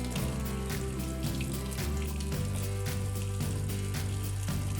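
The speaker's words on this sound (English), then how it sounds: "I'll run a little water" Cold tap water runs steadily over roasted serrano peppers as their skins are pulled off for a spicy salsa, a continuous close splashing stream with no talking.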